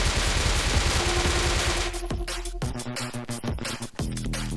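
Bursts of MP5 submachine gun fire in the survival game Rust, rapid automatic shots rattling through several strings with short pauses between them, loud and close.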